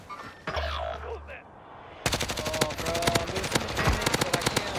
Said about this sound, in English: legit one bullet airstrike